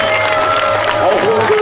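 A crowd at a knights' tournament at a medieval festival in Laxenburg cheers and claps in a steady, dense wash, with voices carrying over the applause throughout.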